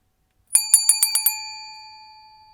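Six rapid bright rings of a bicycle bell in quick succession, close and clear, with the last ring lingering and decaying slowly.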